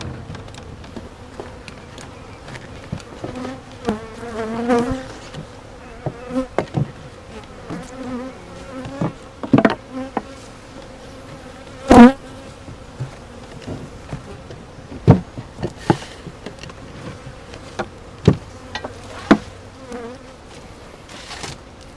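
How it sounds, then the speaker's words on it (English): A freshly caught honeybee swarm buzzes agitated and close for over twenty seconds, a continuous droning hum broken by sharp clunks and knocks of hive equipment being handled, with no talking. "the bees are definitely a little riled up"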